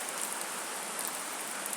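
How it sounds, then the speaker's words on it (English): Rain falling outdoors near green trees, a soft, even hiss of drops that carries on steadily and faintly with no voices. "It's raining, you know."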